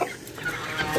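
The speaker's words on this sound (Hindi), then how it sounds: "लेकिन मुर्गे को पकड़ लेंगे।" A rooster clucking in a backyard bird pen kept alongside pigeons and ducks, a short, close sequence of soft clucks with a brief higher call at the end.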